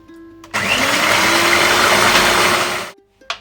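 An electric mixer beats Afuega'l Pitu cheese into cheesecake batter, switching on with a loud, steady whirring drone for about two and a half seconds before cutting off, followed by a short clunk.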